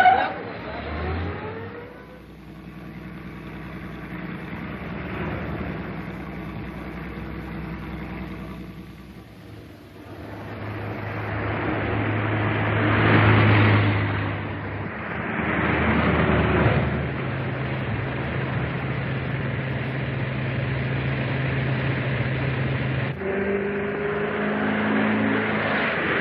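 Car engine from a 1937 film chase, a steady motor drone that swells and eases as the car drives in pursuit, with muffled film-soundtrack texture and no clear talking.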